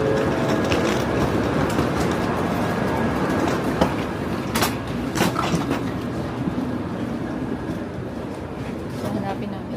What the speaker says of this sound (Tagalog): Pasok na kami na bullet train.